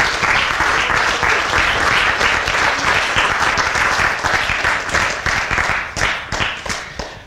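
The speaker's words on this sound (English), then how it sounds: "So a round of applause for these students" A room full of people applauds new student inductees at a college induction ceremony for the new academic year, with dense, steady clapping that stays strong for several seconds and then thins out into scattered claps toward the end.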